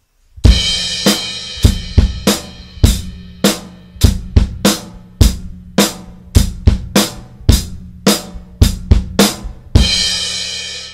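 A drum kit plays a steady rock beat alone, using heel-toe technique on the bass drum for punchy hits, with a snare backbeat and crashing cymbals at the start and end.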